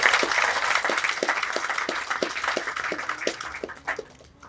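A crowd at a memorial park presentation claps, a dense burst of applause that starts loud and gradually thins out, with a few faint voices mixed in near the end.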